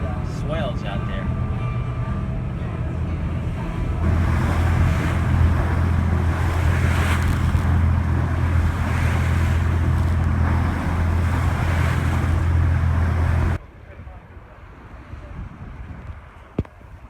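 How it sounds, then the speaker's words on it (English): Wind and heavy sea with roughly four-foot swells heard from aboard a boat heading to the North Manitou Island dock, a loud rushing roar with engine rumble that cuts off abruptly near the end, with people talking over it. "Pretty heavy seas today."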